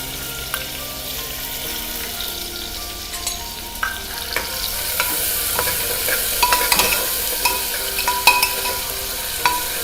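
Chopped onion sautés in hot oil inside a pressure cooker, a continuous close sizzle with frequent spoon scrapes and clatters from stirring that grow busier toward the end.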